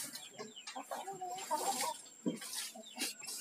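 A tame, rare pink-necked green pigeon (punai) gives soft, repeated calls at close range amid faint background bird sounds, with a short, louder burst partway through.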